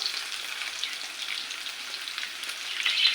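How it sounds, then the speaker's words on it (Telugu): Chopped onions hiss in hot oil with mustard seeds in a steady, bright, unbroken sizzle close up, with no pauses. "ఆవాలు ఫ్రై అయినాయండి ఇప్పుడు ఆనియన్స్ వేసుకున్నాము"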